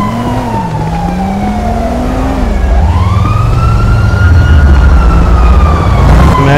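A police car siren in the video game GTA V wails loudly and steadily throughout, its rising and falling tone sweeping over a continuous engine-like rumble, with no talk over it.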